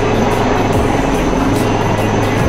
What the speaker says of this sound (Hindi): यह है Indian coast guard made in India lightweight helicopter Dhruv